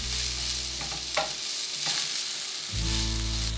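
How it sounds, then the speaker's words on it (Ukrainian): Finely chopped filling frying lightly in a pan, a steady close sizzle with stirring scrapes, broken by a brief quieter stretch before the sizzle returns loud. "злегка підсмажимо на пательні"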